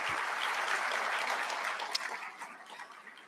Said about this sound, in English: Let's give Dr. Margarita Avila Gomez a big round of applause.